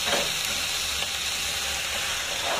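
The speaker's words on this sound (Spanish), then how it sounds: "Ya tenemos nuestros filetes de pechuga de pollo. Ya se están friendo." Chicken breast fillets sizzle and fry in a pan with olive oil, a steady bright crackling hiss throughout, close and alone without talk.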